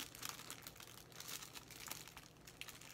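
Thin foil wrapped inside an Altoids tin survival kit crinkled by hand, a faint, steady, close rustle of soft crackles with no talking.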